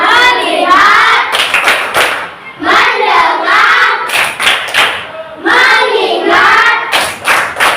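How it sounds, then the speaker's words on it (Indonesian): A group in an Indonesian coaching session performs the tepuk fokus clapping chant, voices calling the chant in unison in short bursts punctuated by rhythmic hand claps. "Tepuk fokus."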